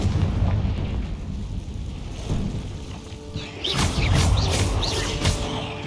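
A Confringo blasting spell goes off in a cave in the Hogwarts Legacy video game, giving loud booming explosions over a constant rumble, with a bigger burst and scattered crackling debris in the second half.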